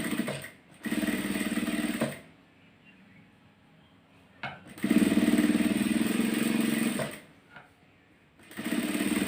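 A sewing machine stitches a shape belt (waist band) a quarter inch from the edge, running in three loud steady bursts with short quiet pauses between.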